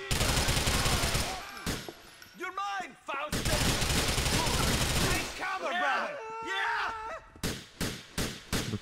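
Bursts of rapid gunfire and fusillades from the video game GTA 4 sweep through the scene, loud and close, broken by shouting game voices between volleys and ending in a string of separate shots.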